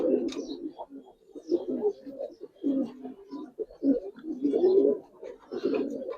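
Domestic pigeons, a coloured Giribaz breed, coo nearby in repeated throaty, bubbling calls that rise and fall continuously, several birds overlapping, with a faint chirp now and then.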